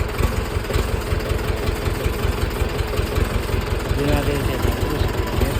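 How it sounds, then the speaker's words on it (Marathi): A Mahindra tractor engine idles with a steady low chugging throb, close and continuous, while a person talks over it. "ट्रॅक्टर चालू झालेला आहे"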